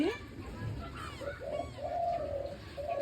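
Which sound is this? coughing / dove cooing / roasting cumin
dove cooing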